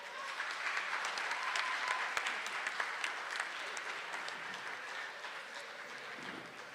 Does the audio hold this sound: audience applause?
yes